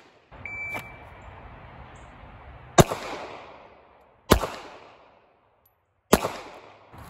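Kel-Tec pocket pistol fired in a qualification course, drawn with the hand already on the gun in a pocket holster: three sharp, loud shots spaced over a couple of seconds each, echoing after each report over faint background hiss.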